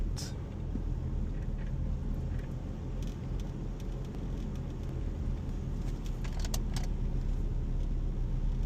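Steady, low engine and road rumble from a car arriving at a Corvette club rally in Champagne, France, with a few faint clicks and rattles on top and no voices.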